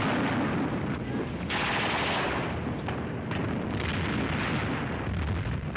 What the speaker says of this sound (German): Streufeuer der feindlichen Artillerie.